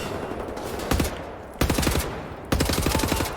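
Rapid automatic gunfire in the shooter Wolfenstein: The New Order, three loud bursts of rattling shots separated by brief gaps, with no talking.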